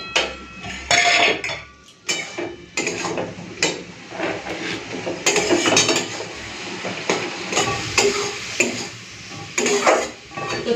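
A pot and metal utensils clatter as cooked ash gourd is lifted off the stove, repeated sharp scraping and clinking knocks in an uneven rhythm, close and fairly loud.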